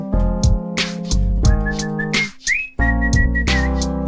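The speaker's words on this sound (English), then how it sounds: "great whistling." A concert audience whistles a melody along with live instrumental music and singing, the sustained whistled tones rising and falling over a full, steady band sound, with a brief pause near the middle.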